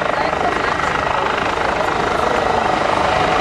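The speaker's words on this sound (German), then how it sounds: "sehen Sie nun wieder die einfliegenden Hubschrauber zur Aufnahme der Kräfte" Loud, steady thudding rotor chop of German military helicopters flying close overhead to pick up special forces at the ILA 2018 air show, a continuous dense roar throughout, with a voice faintly audible beneath.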